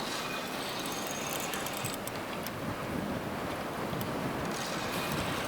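Strong wind sweeps across the Orlean reservoir while waves churn on a stormy, cold May day during fishing, producing a steady, dense roar of wind noise and surf with no pauses.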